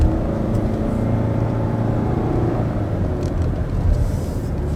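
A Renault car's turbocharged engine accelerates uphill, giving a steady, fairly loud engine hum and road rumble that swells slightly toward the end.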